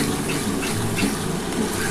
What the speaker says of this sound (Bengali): এবার আমি কিন্তু মশলার জলটা দিয়ে একটুখানি ফুটিয়ে নেবো